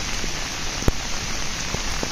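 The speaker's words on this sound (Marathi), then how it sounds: "जसं मी घरातनं निघाल तसा पाऊस चालू आहे" Steady monsoon rain hiss fills the scene at Kumbhe Waterfall in Tamhini Ghat, with scattered drops pattering on a surface and one sharper tap partway through.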